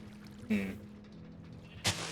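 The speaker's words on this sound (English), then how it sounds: "But we'll put a water source here." A water source being placed in Minecraft with the Create mod, heard as two short splashy bursts about a second apart over a faint steady hum, with no speech.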